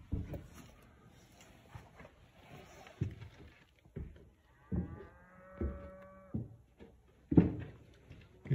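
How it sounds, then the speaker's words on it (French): Cows moo near an abandoned dairy farm at night, with one long drawn-out low call in the middle, set among scattered thumps and knocks from close by. "J'ai pas une vache, mais on entend des vaches."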